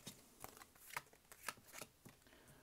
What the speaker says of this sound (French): Je vais retourner le premier tas.